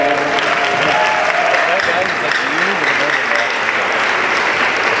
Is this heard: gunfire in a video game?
no